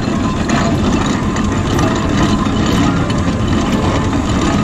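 Vintage steam traction engines and rollers rumble around the arena of Scotland's largest steam fair at Fraser Castle, a loud continuous low chugging drone with mechanical vibration and no talk.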